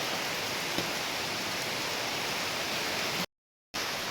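Heavy rain pours steadily as a dense, even hiss that breaks off briefly into silence before resuming, with no voices.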